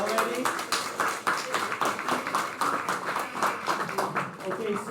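Graduates of a PGY3 residency class at SSM St. Mary's in St. Louis receive a lively round of applause, dense irregular clapping from a crowd that keeps going steadily throughout.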